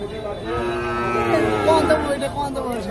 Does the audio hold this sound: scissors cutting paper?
no